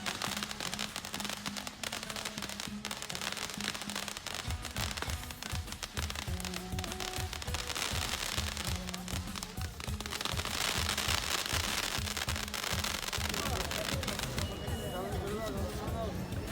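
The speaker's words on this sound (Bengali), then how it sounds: "কেউ আবার তাদের সঙ্গে আলো জ্বালাচ্ছে, কেউ আতশবাজি ফোটালো।" Rapid crackling bursts of fireworks and firecrackers pop continuously in Kuala Lumpur, Malaysia, loud and dense, with voices talking underneath the explosions.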